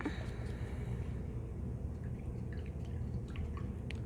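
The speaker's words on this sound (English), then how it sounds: "Rinse that out on my brush." A paintbrush swished and rinsed in a water jar while acrylic painting, soft small drips and watery clinks over a low steady background rumble, close and faint.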